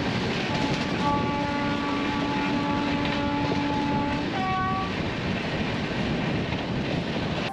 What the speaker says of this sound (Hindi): उससे थोड़ी देर बाद हमारी मुलाकात हुई मैसूर दरभंगा बागमती एक्सप्रेस से।